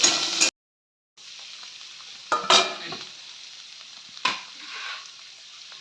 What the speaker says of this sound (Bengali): ভালোভাবে কিছুতে নাড়াচাড়া করব